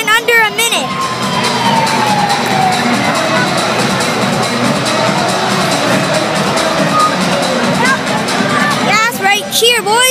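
Crowd cheering after a goal at a Vancouver Giants hockey game on teddy bear night, a loud sustained roar of voices with a horn tone and whistles and shouts near the start and end.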